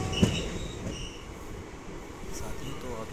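An express train with ICF coaches runs on the rails and makes a steady rumble from inside the carriage, with a few faint clacks and knocks from the wheels along the way.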